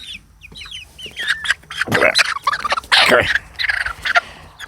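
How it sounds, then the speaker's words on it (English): A rooster clucks and squawks in several loud, scratchy bursts at close range, with some rustling and scuffling between calls. "That's a big rooster there."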